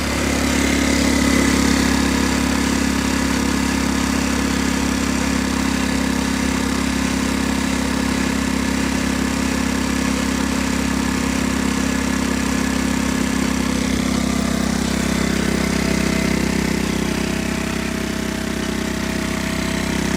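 A Talon GSX 150 R2 engine idles steadily and close by, a constant mid-pitched mechanical drone with a faint shift in tone near the end, uninterrupted by voices.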